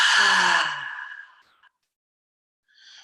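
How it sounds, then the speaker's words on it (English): A person in a power vinyasa yoga class lets out one long, deep, breathy exhale that fades to silence, then a faint start of another breath at the end, close and clear. "Exhale, let that go"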